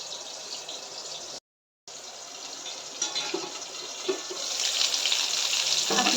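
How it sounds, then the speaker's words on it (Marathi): Stuffed bitter gourd (karela) steaming in a covered pan over a low gas flame gives a steady, soft hiss and sizzle, briefly cut off and then swelling a little louder toward the end. "आता हे कारले आपण मंद गॅसवर आणि वाफेवर वापरून घेऊया"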